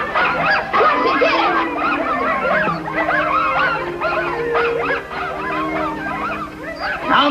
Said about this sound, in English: Why'd he bring all them dogs here?